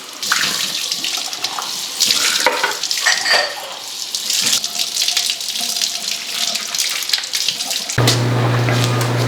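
Colourful glass dishes are rinsed under a running tap, a loud continuous splash of water with clinks and shifting spray, ending in a steadier, lower gush.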